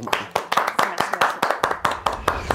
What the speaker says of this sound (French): Non, on applaudit.